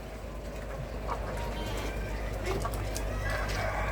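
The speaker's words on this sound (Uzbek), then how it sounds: "O'xayil tovuqlarimiz" Ohayil chickens cluck and coo softly inside a cooled poultry house, the scattered calls sitting over a constant low hum of ventilation fans.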